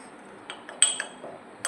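A spoon mixes a charcoal face mask with curd in a small bowl, making a few sparse, light clinks against the dish in an otherwise quiet room.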